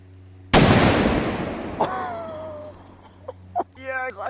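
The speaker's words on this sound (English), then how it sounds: "we've got a massive firecracker on top of the lock" A single loud blast from a large Spanish firecracker set on top of a lock hits suddenly and rings out into a long, fading rumble, followed by a few faint sharp sounds and brief voices.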